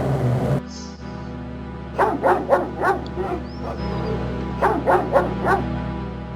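A dog in the video game King's Quest VII barks in two quick bursts of several yips each, loud and close over a steady game background drone, with a short whine near the start.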